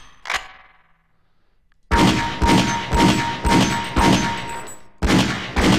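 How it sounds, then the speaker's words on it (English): Gunfire in the Opposing Force video game: one sharp shot, a short pause, then a loud rapid run of repeated metallic shots with ringing tails, all close and with no talking. "I'll just keep shooting that."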